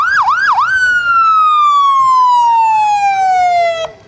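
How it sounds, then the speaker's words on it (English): A sheriff's car siren at a parade wails up and down a couple of times, then holds a long, slowly falling tone before cutting off abruptly; loud and close. "The siren works good, doesn't it? The siren works well, and the car is kind of quiet."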